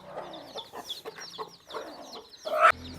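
Soft clucking from a hen mixes with faint high peeping of her newly hatched chicks, close by and irregular, with a louder squawk near the end.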